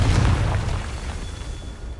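A Confringo blasting spell bursts in Hogwarts Legacy with a loud, close boom whose low rumble decays over about two seconds.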